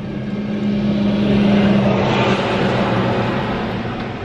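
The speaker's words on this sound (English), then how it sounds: "a big van just came past, and then, can you hear it? Another one's coming past." A big van drives past on a road nearby, a broad steady engine and tyre roar that swells toward the middle and then slowly fades, with no talking.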